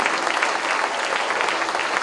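A congregation at a Catholic prayer service applauds in praise of God, a steady, dense wash of many hands clapping at close range that fills the whole moment without voices.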